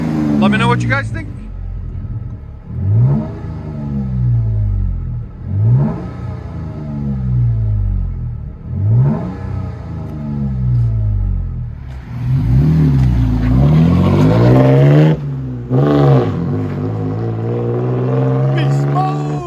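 A 2020 Toyota Tacoma TRD Pro 4x4 with a 3.5L V6 and Black Widow exhaust, revved repeatedly in rising and falling bursts, loud and close, ending in a sustained higher rev, with someone talking over it.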